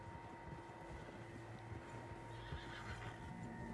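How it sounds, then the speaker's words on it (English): Several horses neighing and whinnying in the video game Red Dead Redemption 2, faint calls over a steady low ambient bed with soft hoof clopping, no speech. "Horses, quite a few of them."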